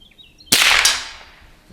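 An Umarex Prymex air gun fires at a painted target: one sharp, loud crack bursts out of near silence and decays into a lingering tail, with a faint tick trailing shortly after.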